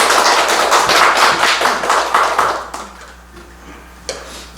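Dense, loud applause from an audience welcoming a guest speaker to a lecture hall, sustained for nearly three seconds before thinning into a few scattered claps and quiet room tone.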